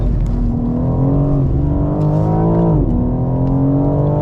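A BMW G80 M3 accelerates hard on BMW's Spartanburg factory track, its loud, close engine note climbing steadily in pitch with a brief dip before rising again, no voices.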